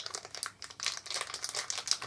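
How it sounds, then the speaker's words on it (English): A small plastic bag crinkles and rustles as fingers feel an object inside it, a close, quiet run of irregular crackling bursts with brief pauses. "it's in a little plastic bag. So I'm going to feel it and see what I think I've got"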